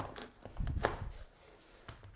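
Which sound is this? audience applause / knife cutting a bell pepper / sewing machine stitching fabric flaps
knife cutting a bell pepper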